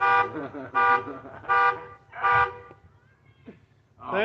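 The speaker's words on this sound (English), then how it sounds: "Car alarms." A car alarm in Silverton, Colorado blares in repeated loud electronic pulses of about half a second each, separated by short gaps, then cuts off briefly before starting again.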